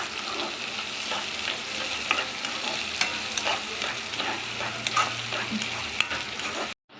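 Onion and spices fry in a pan with a dense, even hiss, broken by light rhythmic stirring taps and a brief low hum near the end, then a sudden cutoff.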